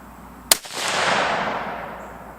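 Single loud, sharp rifle shot from a Savage Axis in 6.5 caliber during an outdoor accuracy test, followed by a long fading rumble and echo across the range.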